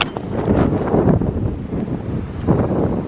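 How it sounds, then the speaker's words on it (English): Loud, steady wind buffeting the microphone in Colorado, a continuous low roar with gusts swelling and easing throughout. "So windy."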